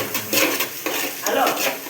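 Carrots go into browning Manchurian in a hot pan: a spoon stirs and clinks against the metal over a low sizzle, with brief bursts of close activity.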